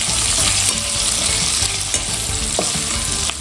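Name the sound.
stirring chicken chilli frying in a pan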